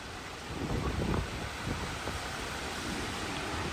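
Rough ocean surf pounds the shore at Coolangatta during Cyclone Alfred, a dense, continuous roar of breaking waves mixed with gusty wind buffeting the microphone. No one speaks.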